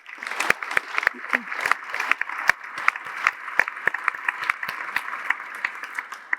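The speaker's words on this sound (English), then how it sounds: "Let's give them one more round of applause, please" A conference audience gives panelists another round of applause after a discussion; a modest crowd claps, with sharp individual claps standing out irregularly against a thinner spread of hands.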